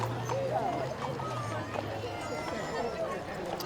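Horses clip-clop past in a horse and carriage parade at a strawberry festival, steady hoof beats under a low hum, with a crowd and someone talking over a loudspeaker throughout.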